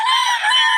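A rooster crows close and loud, one brief, strident call lasting under a second with no voices over it.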